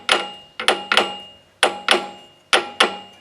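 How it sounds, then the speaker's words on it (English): Sharp metallic hammer taps close by on a hydraulic cylinder from a Case 530 backhoe, turned while tapped to catch the first thread, arriving in uneven pairs and singles, each ringing briefly before fading. "tap it with a hammer while I'm turning it."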